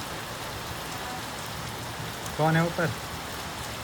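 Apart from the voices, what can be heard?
heavy rain falling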